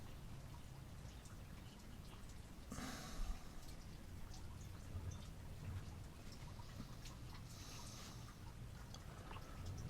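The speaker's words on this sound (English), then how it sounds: "it's raining really hard and my internet's messed up" Heavy rain falls steadily and close by, a dense even wash of drops with a brief louder burst of spatter near the three-second mark, with no voices.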